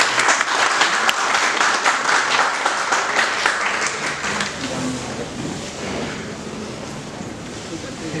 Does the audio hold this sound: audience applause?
yes